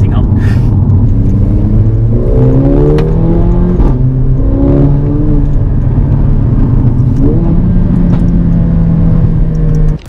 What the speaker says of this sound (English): This camera can pick pick up the pops and crackles of the exhaust.